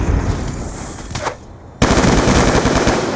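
A sentry gun in a shooter video game fires a dense, steady stream of rapid automatic rounds. The loud rattle runs at first, drops away briefly, then resumes even louder and continuous to the end.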